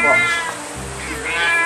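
A house cat meows several times close by, loud harmonic cries in a busy indoor room with background noise and a person talking.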